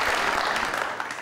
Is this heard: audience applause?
yes